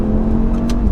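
Audi RS3 engine pulls hard with a steady, loud droning note under acceleration, heard briefly and close with no talk over it.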